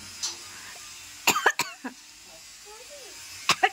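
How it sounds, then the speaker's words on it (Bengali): A child coughs in a few sharp bursts near the start and middle, then twice more near the end, with quieter household sounds between them. "কাশি।"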